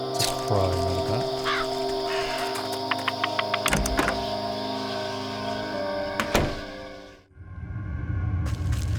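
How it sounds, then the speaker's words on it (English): A crow caws in the Wytchwood video game, short harsh calls set against layered eerie music and sharp clicking and knocking effects, ending in a brief near-silence. "It's a crow, not a bat."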